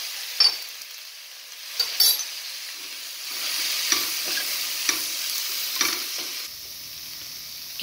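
Flour stirred into a hot saucepan of sizzling fat, a steady frying hiss broken by scraping strokes and light clinks of a utensil against the pan, close and alone.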